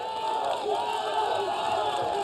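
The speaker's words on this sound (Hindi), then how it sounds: "तालियों के साथ वैशाली डालमिया का स्वागत कीजिए।" A crowd cheers and applauds steadily at an election rally in Howrah, Bengal, a dense wash of voices and clapping filling the air with no pauses.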